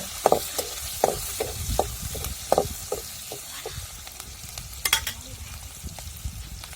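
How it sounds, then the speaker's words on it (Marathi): Finely chopped green chili and garlic being stir-fried, with a low sizzle under repeated rhythmic spatula scrapes and knocks against the pan, close and moderately loud. "आपण जे मिरची आणि लसूण बारीक करून घेतलेला होता ना तो टाकायचा आहे चांगलं परतून घ्यायच्या लाल होईपर्यंत"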